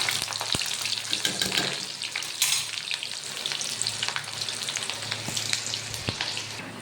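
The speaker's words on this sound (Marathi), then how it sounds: "तर छान तेल गरम झाला आहे, कांदा आहे तो टाकून देऊया" Chopped onion hits hot oil and sizzles loudly and continuously, with the clink and scrape of stirring breaking in now and then and no voices.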